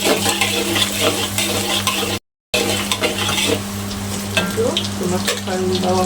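Garlic, ginger and onion frying in a pan while cooking squid, a loud continuous sizzle with stirring and clinks of utensil against the pan, broken by one brief silence.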